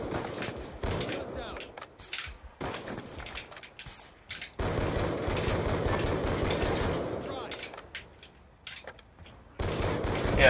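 Rapid bursts of gunfire from Black Ops 2 gameplay, with repeated loud shots and volleys crackling through the clip amid a dense, noisy in-game battle backdrop.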